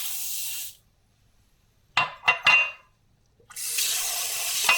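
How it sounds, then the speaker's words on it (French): Tap water sprays into a bowl while lentils are rinsed, a hissing stream that stops, gives way to a few short splashes, then runs again steadily, close by. "Je la rince bien."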